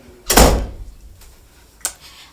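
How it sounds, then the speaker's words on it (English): A door closes indoors with one loud, close thud, followed about a second and a half later by a softer latch click, with no talk. "Let me close my door."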